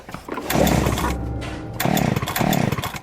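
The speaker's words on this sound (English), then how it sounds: "Chainsaw." Chainsaw sound effect in the Mystery Case Files: 13th Skull hidden-object game, a loud, buzzing motor roar that runs steadily, cuts out briefly, then revs back up in pulsing bursts.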